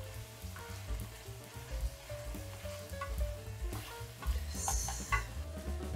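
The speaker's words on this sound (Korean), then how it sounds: "마지막으로 팬을 두 번 튕겨주면 남녀노소 누구나 좋아하는 호불호 없는 토마토 스파게티가 완성됩니다." Tomato spaghetti sizzles and fries in a pan that is tossed twice, a steady close crackle with stirring scrapes and a few louder bursts as the pan moves, with no voices.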